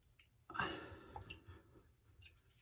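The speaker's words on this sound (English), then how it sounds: "I'm going to drop a little bit of water on here for a second." Water dripped and splashed onto a puck of Rum Smuggler shaving soap in a bowl, a brief wet patter rising then trailing off into faint scattered drops, close by with no talk.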